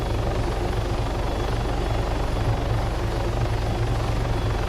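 A helicopter in the video game Arma 3 throttles up, its rotor and engine producing a loud, constant pulsing drone with a steady rhythmic beat and no voices.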